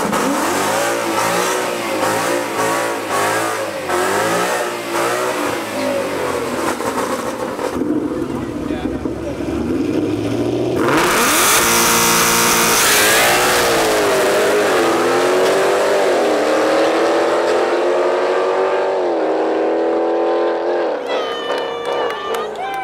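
A supercharged LT4 Chevrolet SS race car accelerates hard, its engine climbing through rising revs with gear shifts in a loud, close, sustained roar, a second car audible alongside and voices mixed in.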